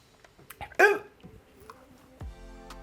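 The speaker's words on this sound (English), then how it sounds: "Your hiccups are so weird." Human hiccups: one sharp, loud voiced hiccup near the start with a few softer catches and small sounds around it, close by and heard alone.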